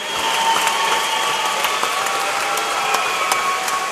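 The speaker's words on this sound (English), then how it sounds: "A round of applause to Tommy Cope." Crowd applause at a swim meet after a boys 200 IM race, a steady dense wash of clapping close and continuous throughout.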